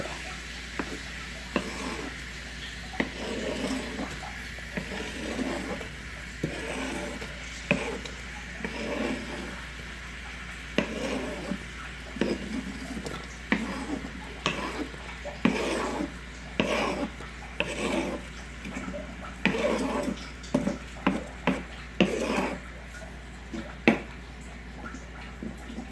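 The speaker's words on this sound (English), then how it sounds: "I am going to let this saute for a little while" Chopped vegetables sauté in oil in a pan for a spaghetti sauce, giving raspy scraping and stirring bursts at an irregular pace over a steady low background hum.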